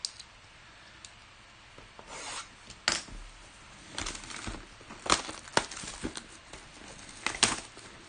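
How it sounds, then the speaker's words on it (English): Boxes of 2019 Goodwin Champions trading cards being opened and packs shuffled, quiet rubbing and papery scrapes broken by sharp crinkling bursts and clicks at irregular intervals, close up with no talking. "I'm going to open each box, I'm going to shuffle the packs, and I'm going to number the packs"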